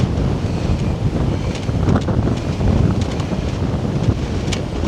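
Strong wind buffets the microphone on a stormy beach at Mablethorpe, Lincolnshire, with surf rumbling underneath, a loud, constant roar that gusts unevenly throughout.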